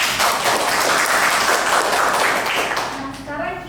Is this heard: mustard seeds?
no